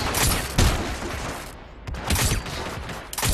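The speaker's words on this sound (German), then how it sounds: "Wieso haben wir auch geschossen?" Rapid gunfire in the video game Hitman Absolution comes as loud, sharp bursts of shots. Several volleys crack out close together with short lulls between them, and there is no talk.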